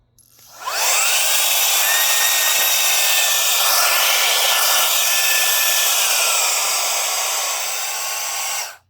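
A Reikiya mini cordless handheld vacuum cleaner starts up and runs steadily for several seconds with a loud, high-pitched whirring whine, then cuts off abruptly.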